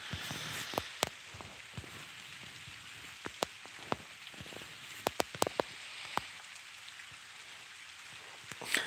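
Steady rain falls outdoors in a dense, continuous patter, with louder individual drops striking close by at irregular moments.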